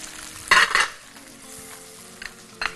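Onion and peppers stir-fried in a hot pan for beef shawarma: two sharp bursts of sizzling as the vegetables are tossed, then a low steady frying hiss with brief utensil scrapes near the end.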